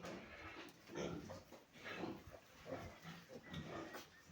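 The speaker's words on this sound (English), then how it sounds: "So this pig is in labor." A sow in labour in a delivery pen gives low, rhythmic grunts, repeating roughly every second, fairly faint and close.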